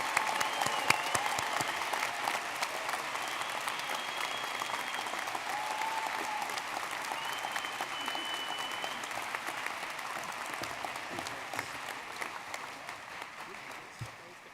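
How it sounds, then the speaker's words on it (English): Graduates at a Medical College of Wisconsin commencement in Milwaukee give a standing ovation, sustained dense applause from a large crowd that runs on evenly, with scattered whistles and cheers mixed in. "Please stand and applaud your loved ones."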